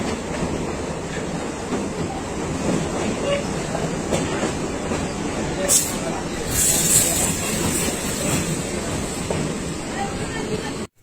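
A local train runs from Cooch Behar toward Siliguri past the Coronation Bridge near Sevoke station, its steady low rumble and rattle continuing throughout with a few brief bright squeals and clatters over the wheels.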